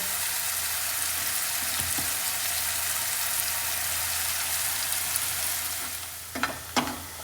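Spices for a tadka for sarson da saag sizzle and crackle steadily in hot oil, a close, continuous hiss with a couple of stirring knocks near the end.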